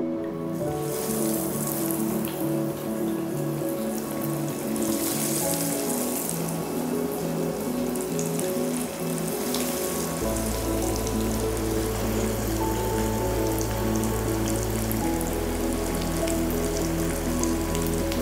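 Fish fries in hot mustard oil in a pan, a steady close sizzle and crackle that runs the whole time with no voices, a low hum coming in partway through.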